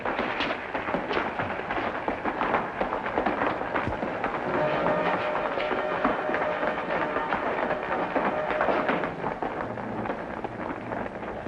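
A train rumbles along the rails in a continuous loud roar with rattling and clattering, steady throughout with no pauses, in a 1955 television drama.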